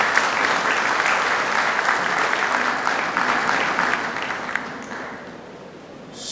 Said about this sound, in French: Et je voudrais qu'on applaudisse encore pour ça.